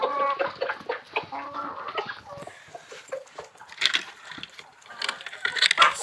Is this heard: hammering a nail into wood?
no